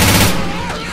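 Loud, close gunfire crackles in Left 4 Dead 2, a dense burst of shots in the first instant that trails off into a ringing decay.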